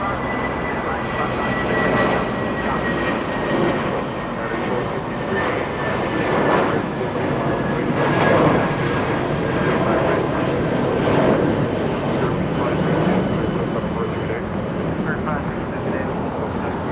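Aircraft at Los Angeles International Airport keep up a continuous loud engine rumble and rushing roar, with wind buffeting the microphone throughout.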